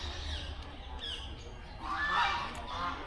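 A goose at Garchumuk Zoological Park gives a few nasal honks, moderately distant and fairly soft, with the loudest call near the end over a quiet background.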